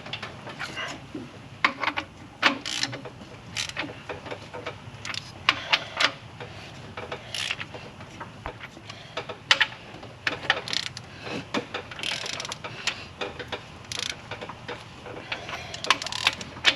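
Bolts on a counterbore cutting tool are tightened in alternating order on an ISX Cummins engine block, giving scattered metallic clicks and ratcheting taps at close range, irregular and fairly quiet.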